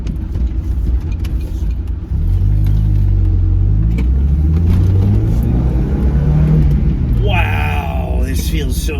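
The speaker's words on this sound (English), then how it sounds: "Let's go for a drive." A Mazda Miata drives along, its engine and road noise forming a loud, steady low rumble up close with rising and falling pitch as it moves; a voice exclaims briefly near the end.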